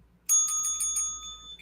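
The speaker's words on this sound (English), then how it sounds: "I'm back with the bell." A bell rings clearly several times in quick succession, each strike leaving a bright sustained metallic tone over a near-silent background.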